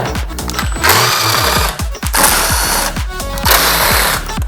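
A power tool rattles loudly and continuously while bolts come out of the airbox on a 2017-or-later Suzuki GSXR 1000 motorcycle, with its buzzing pitch rising and falling as each bolt spins.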